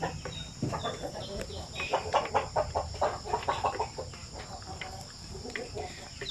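Several chickens in a coop flood-cleared in the rainy season, 45-day-old birds eating, with soft clucks and pecking noises over a steady insect-like buzz, moderately near.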